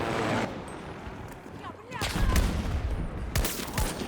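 Gunfire in the shooter game Battlefield 2042, a burst of sharp shots with a quieter stretch, then a louder cluster of rapid shots near the end amid battlefield noise.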